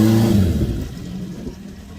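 Honda motorcycle engine revving loudly up toward a high-pitched wail near 10,000 RPM, with a strong rising harmonic tone at the start that fades into a steady, rougher engine roar.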